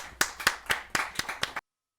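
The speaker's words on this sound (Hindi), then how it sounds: "जय जोरदार ताली के साथ" Seven evenly spaced hand claps ring out in a steady rhythm at a Hindi poetry gathering, fairly close, then stop abruptly into silence.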